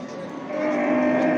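Cattle at a busy livestock market in Çorum, Turkey, letting out a sustained moo that swells and holds against a steady crowd-and-yard din.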